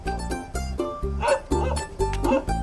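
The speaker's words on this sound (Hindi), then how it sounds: "कुत्ते ऐसे ही भौंकते रहेंगे, तुम डरो मत।" Dog barking outdoors in a series of sharp, repeated barks, a new one roughly every half second, loud and fairly close, with some whimpering yips mixed in.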